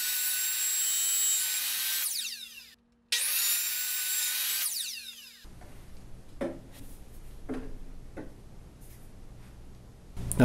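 A hand saw cuts a piece to length during a home electrical service upgrade, first with loud, rapid rasping strokes that pause briefly, then quieter scraping, knocks and handling sounds.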